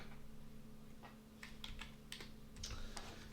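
Quiet clusters of keystrokes on a computer keyboard, irregular bursts of clicking over a low steady hum.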